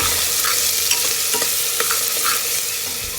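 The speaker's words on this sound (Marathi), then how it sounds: "कांदा व्यवस्थित लाल होईपर्यंत परतून घ्यायचा आपल्याला." Finely chopped onion sizzles steadily as it is stirred and sautéed in a pan for a village-style chicken kharda, with soft scraping taps from the spoon over a continuous frying hiss.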